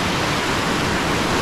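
Whitewater pours over a ledge on Bear Creek, Montana, a loud, constant broadband roar of rushing water heard up close without voices.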